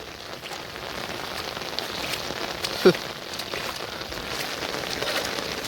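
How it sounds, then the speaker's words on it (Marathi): Steady, dense rain pours down with a continuous hiss that fills the whole stretch, with a single brief thump partway through. "कंटिन्यू पाऊस पडत असल्यामुळे इकडे सुद्धा पाणीच पाणी झालं आहे बघा"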